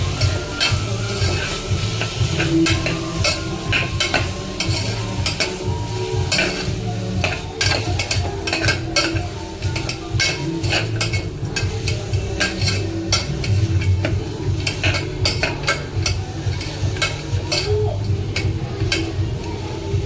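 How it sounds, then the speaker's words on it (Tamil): Mutton bones stirred with crushed ginger and garlic in a pot for bone soup, a continuous run of rapid scraping clicks and knocks over a low sizzle, close and steady throughout. "நம்ம வாஷ் பண்ணி வச்சுருக்க போனை ஆட் பண்ணி நல்லா மிக்ஸ் பண்ணி விட்டுறலாம்."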